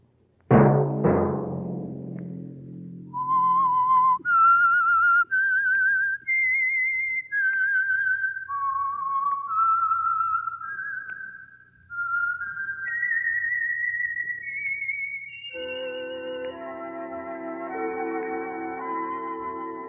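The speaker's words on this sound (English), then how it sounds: "Let that whistle be your signal for the Signal Oil program, The Whistler, each Sunday night at this same time." A whistled melody serving as the signal for a radio mystery program, preceded by a sharp opening sting; the clear tune rises through a sequence of sustained notes, then joins orchestral accompaniment near the end.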